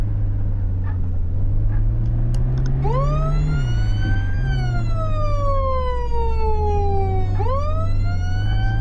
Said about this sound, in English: you can customize your siren to different tones